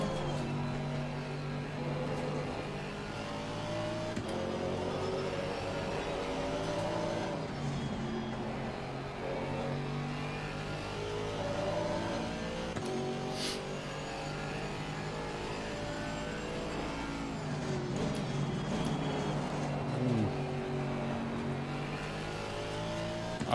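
GT4 race cars roar around Laguna Seca in Assetto Corsa Competizione, a continuous loud engine drone rising and falling through gear changes and revs, with other cars whooshing past now and then.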